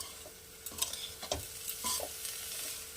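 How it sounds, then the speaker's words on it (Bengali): Rice, lentils and spices for a Bengali paneer khichuri frying slowly in a pan over a low flame, a soft steady sizzle broken by several scraping stirs and light clinks, close and quiet with no talk. "এভাবে একটু লো ফ্লেমে আর একটু সময় নিয়ে এটাকে ধৈর্য ধরে আমি ভেজে নেব"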